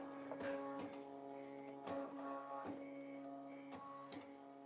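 An embroidery machine traces a design on a flat bill cap, giving a faint, steady motor whine with a regular pattern of soft clicking ticks as the frame moves.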